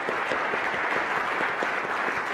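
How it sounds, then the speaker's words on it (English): A conference keynote audience at OpenStack Silicon Valley 2015 gives a dense, steady round of applause for the event sponsors, moderately loud and sustained. "let's maybe do a big round of applause for them"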